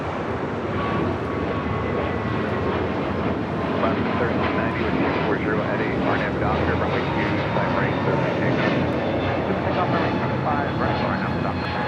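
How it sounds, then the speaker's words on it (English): A heavy jet roars loudly and steadily while landing at LAX, its engine noise filling the air throughout, with radio chatter faintly mixed in. "Have Iberia as the next heavy arrival on the north side."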